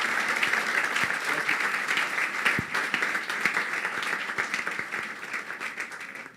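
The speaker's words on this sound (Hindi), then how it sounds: "उस यीशु के लिए जोरदार तालियां।" A church congregation at an apostolic church sermon breaks into loud, sustained applause, dense overlapping claps filling the room with a few sharper individual claps standing out.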